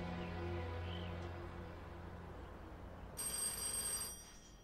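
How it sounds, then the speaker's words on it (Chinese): A telephone rings in a period Chinese drama setting, its bright electric bell tone starting partway through and sounding loud and close over a low background hum, with no talk. "我去接个电话。"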